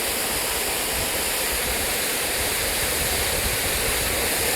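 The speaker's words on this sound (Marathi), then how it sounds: "हे बघू शकता पाणी कसं पडतंय खतरनाक" Steady, dense rush of falling water, loud and continuous with no pauses, close to a jungle waterfall.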